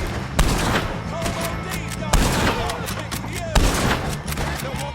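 Gunfire in the video game Red Dead Redemption 2, three loud, sharp shots spaced about a second and a half apart over busy background action and scattered smaller pops.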